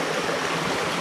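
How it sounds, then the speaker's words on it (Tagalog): Steady rushing flow of water at a resort, a dense continuous wash with a gurgling stream quality, close and loud with no voices. "Yung lagaslas po ng tubig"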